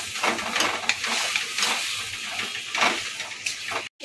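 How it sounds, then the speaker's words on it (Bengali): Taro greens and chana dal being stirred in a pot, a steady scraping and sizzling texture with a few utensil clinks, close and moderately loud, with no talk. "ভালো করে নাড়বো চাড়বো"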